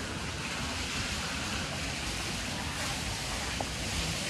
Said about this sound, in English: Oh, the fountains have just turned on.